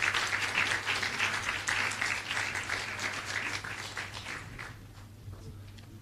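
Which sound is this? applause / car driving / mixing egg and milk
applause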